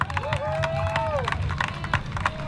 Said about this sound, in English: Let's give a round of applause for Mufi.